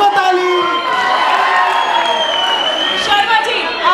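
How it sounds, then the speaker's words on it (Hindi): Studio audience on a Hindi comedy show claps, cheers and whoops steadily and loudly throughout, a dense crowd roar with shouts rising over it. "ठोको ताली"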